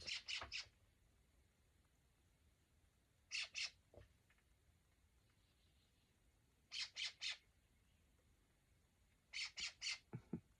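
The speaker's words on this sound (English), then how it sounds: "That's a scrub jay." Harsh, raspy scrub jay squawks come in quick bursts of three or four, repeated several times with pauses between, fairly close against a quiet background.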